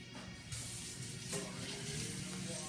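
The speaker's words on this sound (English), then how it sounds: "And the knife, I want to wash the knife." Tap water runs steadily into a kitchen sink while a knife is rinsed under it, a close, continuous rushing splash that grows slightly louder after the first half second.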